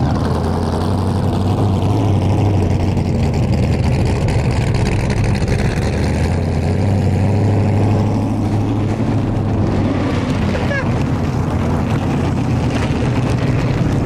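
Big boat engines rated 3000 HP each give a loud, steady low drone that rumbles on without a break, close by and with no talk over it.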